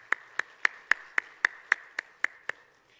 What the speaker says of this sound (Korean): 하나님께 영광의 박수 올리겠습니다